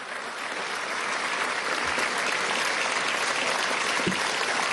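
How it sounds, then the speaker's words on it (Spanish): Sustained applause from lawmakers gathered in the National Assembly chamber honors a constitutional law professor, a broad, steady roar of clapping that holds evenly throughout. "pon un aplauso al profesor Escarrá"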